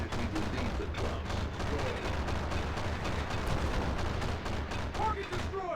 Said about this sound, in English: Now my heavy ion cannon is getting into play here.